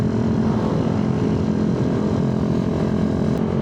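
A Yamaha R7 motorcycle races as an opponent, its engine giving a loud, close, steady droning roar that holds constant throughout without any speech.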